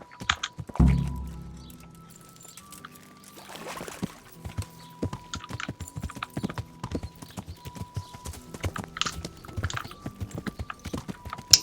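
Horse hooves clip-clop steadily in the medieval game Kingdom Come: Deliverance, a rapid run of close, clear footfalls across most of the stretch, with a brief thud and rustle early on.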